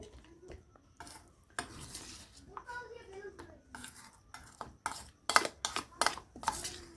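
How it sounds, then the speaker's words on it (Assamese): Peanuts being mixed into gram flour batter in a bowl, quiet wet stirring and scraping with intermittent sharp clinks of a spoon against the bowl, growing busier toward the end. "মই বাদামখিনি বেচনখিনিৰ লগত ভালকৈ মাখি ল'লোঁ"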